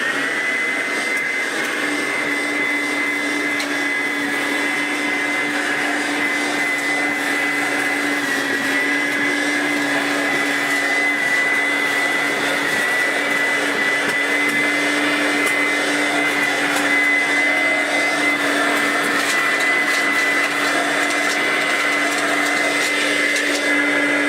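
Vorwerk ET31 vacuum cleaner running continuously while picking up chunks of crayon, a loud, steady motor whine with a high tonal hum and faint rattling of debris, unbroken for the whole stretch.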